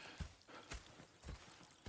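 Horse hooves clip-clopping at a walking pace in the video game Red Dead Redemption 2, with evenly spaced soft thuds, quiet and fairly close, and no talk.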